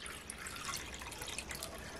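A cup of water poured into a bowl while mixing an orange batter, a faint, steady trickle with light dripping close by and no talk.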